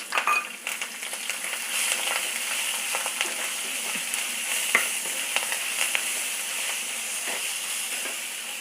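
Green mango pieces and asafoetida fry in hot oil with curry leaves for a South Indian mixed rice, giving a continuous bright sizzle and crackle with a few sharper pops, close and alone without speech.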